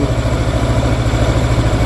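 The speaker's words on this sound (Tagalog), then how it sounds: "So ngayon pinapa-andar natin yung motor para magkarga yung battery." A Yamaha Aerox 155 v1 scooter engine idles steadily up close after repairs to a no-start fault, a loud, even low putter with a constant vibrating pulse and no talking.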